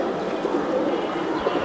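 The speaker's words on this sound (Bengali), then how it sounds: "এটা লাট্টু মাথার একটা নর কবুতর" Male pigeon with a spinning-top crest, one of several birds kept for sale, cooing in a steady low murmur close by, with no talk.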